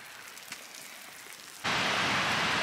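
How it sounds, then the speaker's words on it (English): Quiet outdoor ambience gives way abruptly to a dense, steady hiss of heavy slushy rain mixed with snow pattering across surfaces, at Silver Falls State Park. "It is still snowing, but it's also coming down like more like rain."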